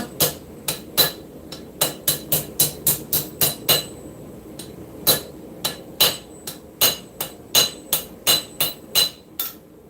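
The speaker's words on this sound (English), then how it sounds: "you can do this particular step with a really light hammer" A light hammer strikes a knife tang on an anvil in bright, sharp metallic rings, coming in quick irregular bursts of blows separated by short pauses, close and clear.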